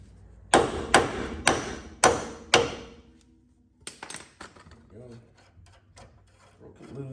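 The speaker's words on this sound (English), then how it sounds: "Hammer, knock it down." Five sharp metallic hammer strikes in a steady rhythm, knocking a vehicle steering part loose during a bump steer kit install, followed by lighter clanks and rattling of loosened parts, close by with no talking.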